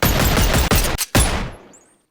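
A rapid burst of gunfire in the VR game Boneworks, aimed at a butterfly: loud, close shots in quick succession, a short break, one more burst, then a fading tail into silence.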